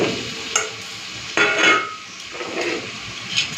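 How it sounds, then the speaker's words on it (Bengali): Potatoes and taro stir-fried with spices in a pan, a spoon scraping and stirring with a steady sizzle and occasional clinks of utensil against metal, close up and with no voices. "এখন মশলার সাথে একটুখানি কষে নিলেই হয়ে যাবে।"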